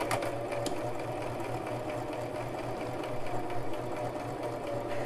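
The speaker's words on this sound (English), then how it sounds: "I'm going to go a couple of stitches and then backstitch and then continue the line of sewing" A Brother LX3817 sewing machine stitches at a steady even rhythm, with its motor humming and a rapid needle pulse that runs throughout, close and clear with no talk.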